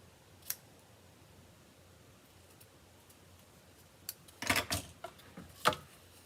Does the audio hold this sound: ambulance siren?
no